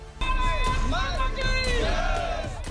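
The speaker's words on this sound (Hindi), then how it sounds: "इस दौरान लोगों ने भारत माता की जय के नारे भी लगाए और तालियां भी बजाई।" Dense airport crowd of well-wishers shouting patriotic slogans and clapping to welcome astronaut Shubhanshu Shukla back to Delhi, a loud continuous roar of voices with rising calls throughout.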